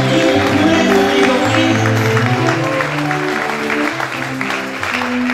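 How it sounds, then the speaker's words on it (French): A church congregation applauds loudly and continuously at a worship seminar, dense clapping close by with singing or voices mixed in throughout. "nous applaudissons pour la gloire de notre Seigneur"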